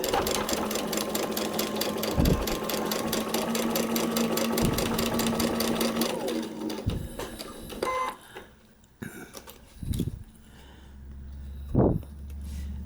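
Sewing machine stitching a paper-pieced quilt block, fast rhythmic needle chatter for about six seconds, then stopping, followed by a few scattered clicks and soft handling thumps, no talking.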